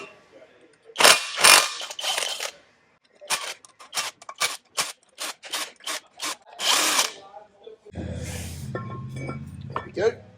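Power tool undoing 14 mm brake caliper bolts on a Land Rover Defender, firing in short repeated bursts with pauses between, then a steadier humming run near the end.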